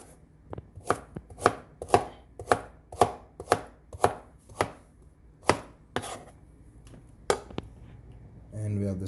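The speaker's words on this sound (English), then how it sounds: "Just chop the ginger up." A knife chops ginger on a board in a steady run of about a dozen crisp, evenly spaced thuds, followed by a short burst of talk at the very end.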